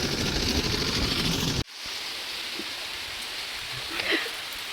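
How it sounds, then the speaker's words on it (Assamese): Steady rain hisses densely and evenly at Boga Mati. It drops out briefly near the start, then continues as a constant wash with a few faint knocks. "বৰষুণ পাইছো গাইস আমি বগামাটিত শুট কৰোতে"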